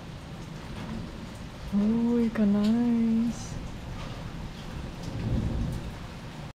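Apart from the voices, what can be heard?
heavy rain with thunder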